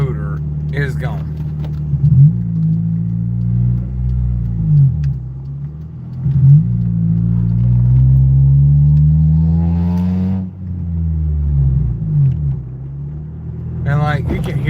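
A turbocharged car engine with a worn rotor revs and drones near the microphone, rising and falling in long sweeps with a whining tone on top, while someone talks over it.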